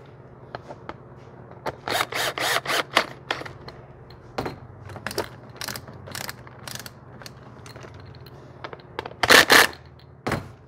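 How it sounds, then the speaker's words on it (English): A hand tool tightens a screw on the stepper motor of a 2021 BMW S 1000 RR motorcycle, making close, dry ratcheting clicks in short irregular bursts with quiet gaps between them. "we just put one screw from our stepper motor back in and tighten it up"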